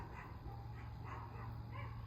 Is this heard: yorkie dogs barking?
yes